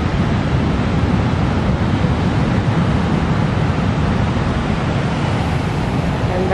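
Ocean waves on a beach wash in a dense, steady roar of broadband surf noise, loud and close, with no distinct breaks and no voices.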